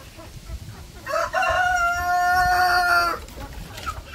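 Chickens on a poultry farm, with a rooster crowing loudly once in a long drawn-out call near the middle, set against low background farm noise and a few soft clucks.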